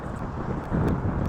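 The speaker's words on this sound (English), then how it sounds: "Sorry if it's windy." Wind buffets the microphone with a steady low rumble that swells a bit louder partway through while lumber loads are tarped on a truck; no voices.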